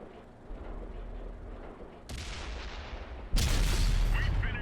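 Tank cannons firing in World of Tanks on Xbox 360, with the Object 704 in play: two heavy booming shots, the second louder and nearer, each leaving a rumbling tail over engine noise.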